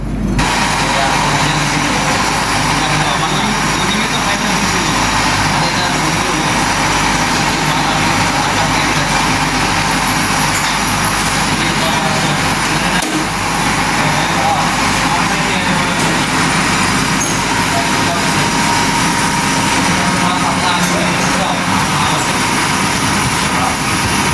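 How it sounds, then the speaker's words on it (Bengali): A lathe running while a brass gear is cut, a loud continuous mechanical drone and hum that stays steady and fills the whole stretch, with a voice talking faintly beneath it. "এই মেশিনটি দেখতে পারছেন যে এটি হলো লেদ মেশিন এর সাহায্যে আমরা এই গিয়ার বানাবো"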